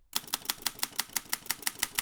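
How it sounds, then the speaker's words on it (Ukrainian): Typewriter-like clattering from a cupboard in a sound effect: about a dozen sharp, evenly spaced clacks in a quick steady rhythm, close and clear, with no voices. "у ближній шафі зацокотіло, ніби там запрацювала друкарська машинка"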